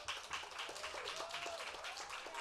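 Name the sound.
audience applauding speakers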